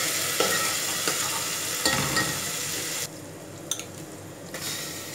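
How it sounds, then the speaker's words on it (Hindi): Ingredients for chicken and vegetable maqluba brown in a frying pan with a close, continuous sizzle, broken by a few stirring scrapes and a brief drop in the hiss near the end. "इसको भी हम थोड़ा सा ब्राउन कर लेंगे।"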